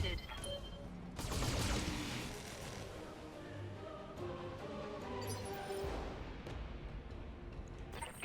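BattleTech mech firing all weapons at once: a loud volley of impacts and blasts around 1–3 seconds, then whining, tonal weapon sounds and further booms.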